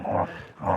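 Dogs playing rough, giving two close, loud growling snarls with a short pause between them and no talk over them.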